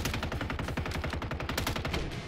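Rapid automatic gunfire in a Resurgence-mode video game, a dense unbroken burst of close, loud shots lasting a couple of seconds with no talk.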